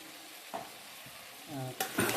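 A spoon stirs a goat head and trotters curry in a pan, making a few soft scrapes and light sizzling, quiet and brief, with no voice.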